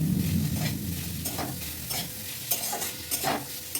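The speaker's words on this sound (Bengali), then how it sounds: "এবার খুব ভালো মতো নাড়িয়ে চাড়িয়ে নেব শাকের সঙ্গে।" Fried eggplant is stirred with greens in a pan over low flame: a soft, close sizzle under repeated rhythmic spatula scrapes, several in quick succession.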